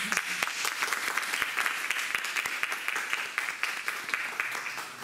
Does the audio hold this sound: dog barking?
no